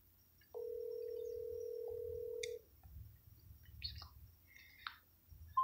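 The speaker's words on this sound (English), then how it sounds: "I'm going to call this man Peterson" A telephone dial tone from an outgoing phone call: one steady, even tone for about two seconds, then brief chirpy beeps and faint background noise with no talk.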